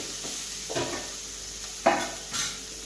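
Chicken fry with onion and tomato being stirred in a pan, a soft sizzle underneath with a few scraping and clinking strokes of a spoon against the metal, no talking.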